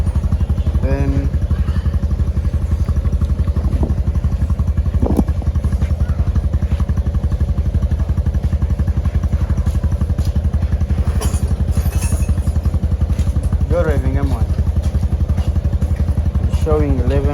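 A Yamaha TMAX 500 scooter engine runs steadily close by with a constant throbbing idle, a charging system failing to charge, and briefly rises in pitch when revved a little, while someone speaks over it.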